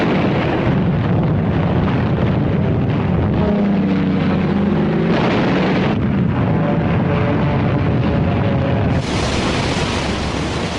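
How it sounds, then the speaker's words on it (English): Massive aerial bombardment in the WW2 Pacific, rendered as a loud, continuous rumble of explosions and blasts with heavy low-end roar, rising into a burst midway and carrying on dense to the end, with no talk. "Wave after wave of American aircraft paved the way with a massive aerial bombardment"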